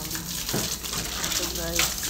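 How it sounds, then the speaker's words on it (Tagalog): Water being poured out for birds, a continuous splashing gush with gurgling bubbles at close range, steady throughout the short moment. "Lagyan natin ng tubig yung mga ibon."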